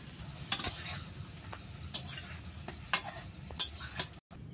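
Meat-stuffed parathas frying in oil in a village kitchen, a quiet steady sizzle broken by several sharp spatula clicks and scrapes against the pan, spaced about a second apart.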